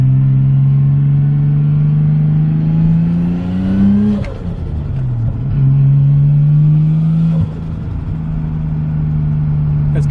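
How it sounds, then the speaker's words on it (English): Nissan Skyline engine droning loudly from inside while cruising, its pitch climbing under acceleration, dipping briefly at a gear change around four seconds, then settling into a steady rumble. "we're going to go for a bit of a cruise in the good old Skyline right here. God, she sounds sick."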